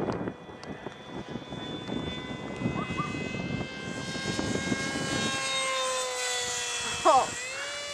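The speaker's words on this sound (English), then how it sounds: "Try and do a low flyby." An MX-1 Wolverine model aircraft makes a low pass, a thin, droning engine whine rising in pitch and growing louder as it nears. People chat over the sound, and a brief burst of noise comes near the end.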